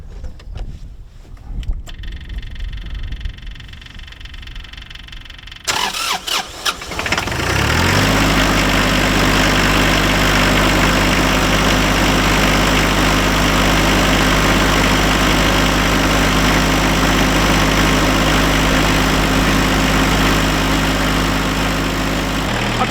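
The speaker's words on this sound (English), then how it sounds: "we'll see if it'll start up" A tractor engine cranks in short bursts amid a few nearby clunks, then fires and settles into a loud, steady, close idle that holds evenly to the end.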